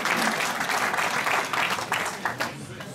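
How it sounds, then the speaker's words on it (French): Crowd applause for a rally podium finisher at a French regional rally's prize ceremony, with steady clapping throughout and a voice talking over it. "on l'applaudit"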